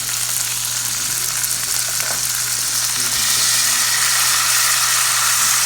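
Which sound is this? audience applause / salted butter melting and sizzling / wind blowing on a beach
salted butter melting and sizzling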